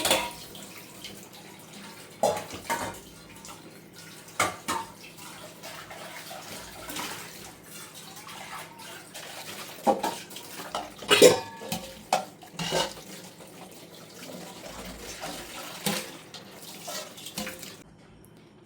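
Dishes being washed under a running kitchen tap, water flowing steadily with frequent clinks and knocks of pots and plates, close and moderately loud, no talk.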